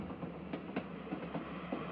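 Train sound from the video game Little Witch in the Woods: a steady low rolling rumble with faint, evenly spaced rhythmic clacks, played quietly and alone.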